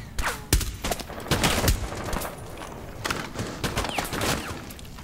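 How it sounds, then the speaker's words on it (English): Rapid, overlapping gunfire from both sides during a Rainbow Six Siege team deathmatch on the Presidential Plane map: sharp, loud shots and short bursts crackle through the full five seconds without a pause. "They're trading shots with me again."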